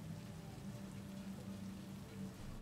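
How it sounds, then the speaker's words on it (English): Steady rain falling in the Cyberpunk 2077 video game, a constant soft hiss of drops on surfaces that stays even throughout with no talking. "Hey, it's raining, boys!"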